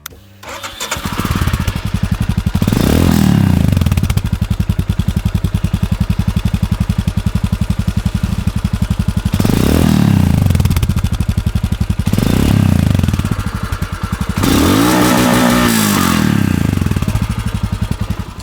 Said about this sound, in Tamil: ஃபைனலாக வந்து நம்ம எக்ஸாஸ்ட் நோட் எப்படி இருக்குன்றது பார்த்துடலாம்.